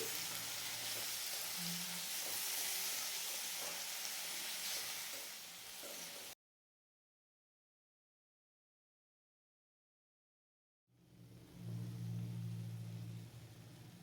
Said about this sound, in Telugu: అన్నీ కూడా ఒకేసారి ఫ్రై చేసేస్తున్నాను